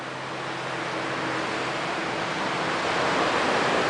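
Ocean waves wash onto Condado Beach in San Juan, a steady, dense roar of surf with no distinct breaks, holding even and fairly loud throughout.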